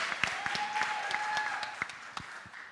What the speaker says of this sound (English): I feel like you should have clapped him on that one.